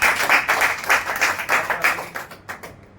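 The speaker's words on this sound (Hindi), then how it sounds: "जोरदार तालियों के साथ।" An audience at a network marketing training session claps loudly in a steady, rapid patter that lasts a few seconds before thinning out and fading at the end.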